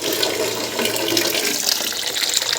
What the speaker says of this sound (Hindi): पानी डाल के इनको बॉईल करूँगी।